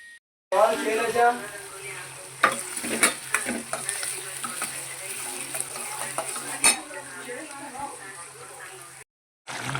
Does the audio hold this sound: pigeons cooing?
no